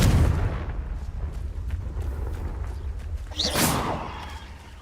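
A Confringo fire spell cast in the video game Hogwarts Legacy, a whooshing blast rising to a loud burst near the end over a steady rumbling game backdrop.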